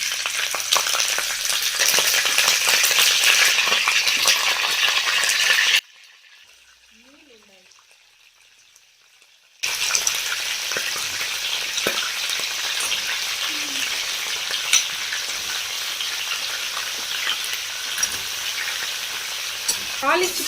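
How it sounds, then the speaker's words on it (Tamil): Crab frying in hot oil with fennel seeds, a loud steady sizzle that drops out briefly midway before resuming. "நம்ம எண்ணெய் ஊற்றி தாளிப்பு பண்ணதுக்கப்புறம் நம்ம நண்டு போட்டுக்கிட்டோம்."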